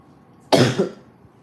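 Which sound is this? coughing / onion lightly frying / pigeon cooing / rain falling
coughing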